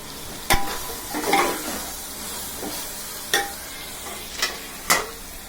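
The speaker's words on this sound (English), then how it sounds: "At this point, let's add the green chilies." Green chilies fry in a pan of oil for mutton biryani, with a steady sizzle broken by several sharp utensil clacks as the mix is stirred, close and fairly loud.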